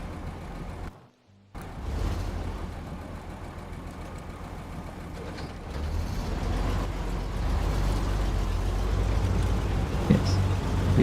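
A truck grinds slowly over rough forest terrain in the SnowRunner video game, a steady low engine drone that briefly cuts out near the start, then returns and swells louder and heavier toward the end.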